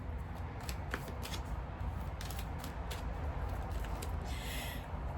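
Tarot cards shuffled by hand near the microphone during a reading, a steady run of riffling, slapping card sounds with a few crisp snaps, and nobody speaking.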